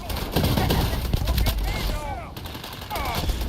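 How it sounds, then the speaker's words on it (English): Project Warfare mod guns fire in modded Starfield gameplay. Rapid bursts of close, loud gunfire with ringing shell and ricochet tones follow one another quickly, under a dense game soundscape. "You didn't nobody tell you I was rocking these Project Warfare guns?"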